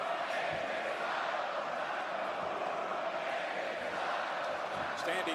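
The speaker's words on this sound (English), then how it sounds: "Nice loud crowd." A loud WWE wrestling arena crowd roars continuously, a dense wash of cheering and shouting voices that stays steady throughout.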